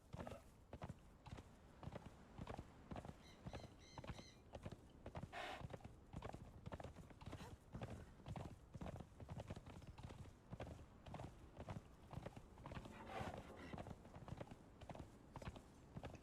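A horse's hooves clip-clop at a quick steady gallop in the game Conan Exiles on Isle of Siptah, a continuous rhythmic beat of close footfalls with faint extra game effects.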